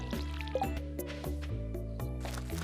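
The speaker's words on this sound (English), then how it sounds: "Gotta water our few crops." In the video game Stardew Valley, a watering can splashes over a few crops, short liquid pouring sounds repeating about every half second over steady tonal background music.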